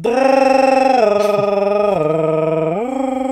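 A telephone ringtone plays loudly and alone: a sustained electronic tone that holds one pitch, then steps down, drops again and climbs back over about three seconds.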